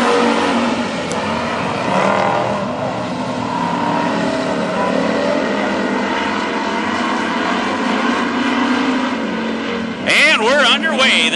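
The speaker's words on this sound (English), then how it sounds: "The second and final heat race tonight for the Street Stocks takes the green." Street stock race cars roar as a heat race takes the green flag on a quarter-mile oval at Princeton Speedway. Loud, steady engine noise fills the whole stretch with a voice over it, and a sharper burst of engine sound comes near the end.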